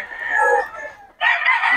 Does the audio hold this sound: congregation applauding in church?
no